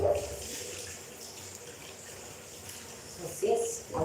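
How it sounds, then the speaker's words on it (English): Fruit being washed under a running tap before going into a juice processor, a steady wash of water and sink noise throughout, with brief louder splashes near the start and end. "You just wash them, make them clean."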